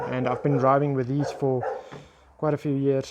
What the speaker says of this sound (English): That's the neighbor's dog barking from nothing.